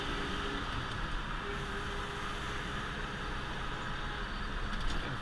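An old car with a cracked windshield gets a little gas on the road, giving a steady, loud engine and road roar that holds evenly throughout, with no voices.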